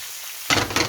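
Sea bream hitting a hot pan, a sudden burst of sizzling that starts abruptly partway through after near silence, with a second louder flare of crackle near the end, close and fairly loud.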